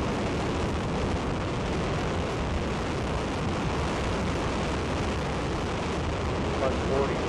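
A five-segment solid rocket motor, the DM-1 test for the Ares I rocket, roars as a loud, dense, unbroken rumble for the whole stretch.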